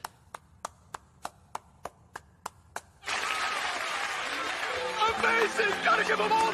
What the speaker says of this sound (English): Is it me, or is the applause louder?